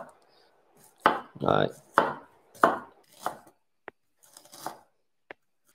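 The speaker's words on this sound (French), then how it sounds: "Pour ne pas trop perdre le gingembre dans le plat, j'aime bien les avoir en très très fine julienne." Knife cutting ginger into fine julienne on a board: a handful of distinct close chops and scraping strokes with pauses between, ending in a few light taps, with a brief spoken word.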